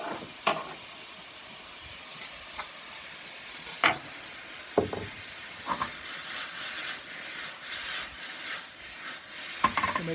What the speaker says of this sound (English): I'm going to let this white sugar kind of caramelize in there a little bit on this right there as we move it around